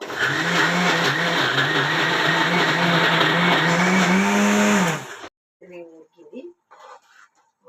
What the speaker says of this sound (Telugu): గోంగూర చల్లారింది మిక్సీకి వేద్దాము చల్లారింది కదా గోంగూర మనం ఇప్పుడు మిక్సీ పట్టేద్దాం